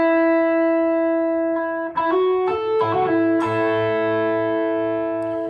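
Electric guitar plays the first phrase of a solo: a sustained note, then quick bends and picked notes settling into a held, ringing tone, loud and solo without talk.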